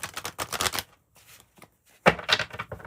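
A deck of tarot cards is shuffled by hand up close, in quick riffling bursts with a short pause between runs, nothing else heard.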